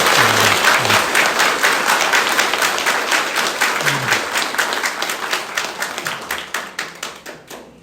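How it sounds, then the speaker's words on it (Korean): Applause from an audience at a Korean Christian memorial farewell service, a dense steady burst of many hands clapping that carries on strongly, then thins out into scattered individual claps as it winds down. "격려에 박수로 한번 생전에 엄영재님 생각하시면서 한번 힘차게 치겠습니다"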